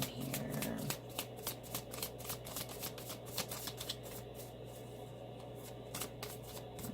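Tarot cards are shuffled by hand in a rapid series of crisp riffling flicks and soft slaps, close up, against a steady low background hum.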